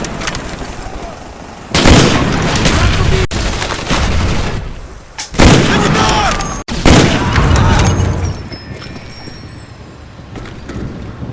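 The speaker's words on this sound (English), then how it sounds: "Heads up! Enemy artillery spotted!" Heavy booming blasts from enemy artillery in Black Ops strike in several loud, broad bursts, each with a sudden onset and a rumbling tail, set against continuous battlefield noise with no talking.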